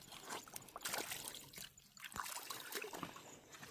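Muddy feet are washed in clear dam water at Baghalati Dam, giving close, irregular splashes and trickles with small pours, sloshes and dripping bursts that rise and fall.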